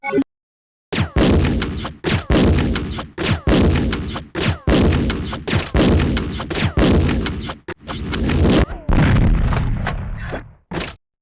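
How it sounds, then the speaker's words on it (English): Grenade launcher firing acid rounds in the Resident Evil Survivor video game: a rapid series of loud, heavy booming shots, about a dozen evenly paced blasts with short gaps, no talking. "Now let's try acid rounds."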